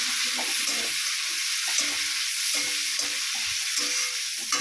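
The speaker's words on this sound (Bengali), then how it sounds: "এবারে পেঁয়াজ কেটে ছোট করে রেখেছিলাম, সেই পেঁয়াজ কোচানোগুলো আমি তেলের মধ্যে দিয়ে দিলাম।" Chopped onions fry in hot oil for a Bengali taro-flower dish, giving an even, hissing sizzle at moderate volume over faint low clatter in the background.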